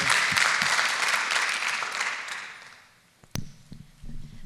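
Audience applause for a volunteer at a live talk event, a dense, steady wash of many hands that fades out over a few seconds, followed by a couple of close bumps and quiet room noise.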